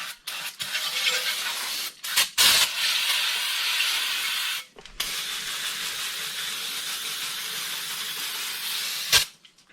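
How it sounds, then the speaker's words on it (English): Aerosol brake cleaner sprays onto the brake parts of a Mercedes W124 in long, loud, steady hissing bursts with a few short breaks, close up and with no talking. "We're just going to clean it all up with brake clean."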